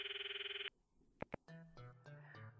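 A redialed telephone gives a pulsing electronic ring at first, then cuts off, followed by two sharp clicks and a short run of tonal beeps.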